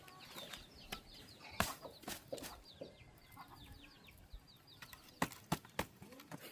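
Hen leading her chicks around a rural yard, soft repeated clucks and chick peeps scattered through, with sharp close knocks and scuffs over a low outdoor murmur, no talking.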